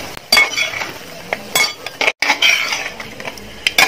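Chicken 65 pieces mixed into masala in a pan, a spoon clinking and scraping against metal in quick repeated strokes, loud and close with a brief gap midway, no talking.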